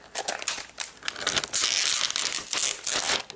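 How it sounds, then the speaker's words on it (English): Protective plastic film crinkles and crackles as it is peeled back from an Asus Transformer Pad Infinity metal keyboard dock, in close, loud, irregular bursts of crumpling with no voices. "First thing we need to do is peel off this plastic."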